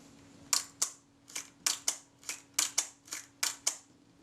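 A Kodak Retina Type 010 camera under repair fires its shutter again and again, giving about a dozen crisp, close mechanical clicks, some in quick pairs, against a faint steady hum.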